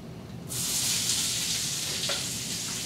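Bacon hits a hot pan and bursts into a loud, steady sizzle after a brief quiet moment, frying continuously up close with faint stirring.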